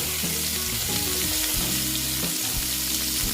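Pointed gourd fries slowly in a pan, a dense, steady, loud sizzling hiss heard up close with a low pulsing hum beneath it and no speech.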